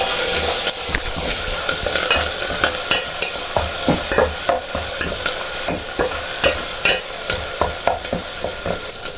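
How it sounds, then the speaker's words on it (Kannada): Tomatoes frying in oil with a pinch of asafoetida for tomato rasam, a continuous loud sizzle broken by regular scraping strokes of a spoon stirring against the pan. "ಒಂದು ಚಿಟಿಕೆಯಷ್ಟು ಇಂಗು, ಇದನ್ನು ಹಾಕಿ ಟೊಮೊಟೊ ಸಾಫ್ಟ್ ಆಗೋವರೆಗೂ ಚೆನ್ನಾಗಿ ಫ್ರೈ ಮಾಡ್ಕೊಳ್ಳಿ."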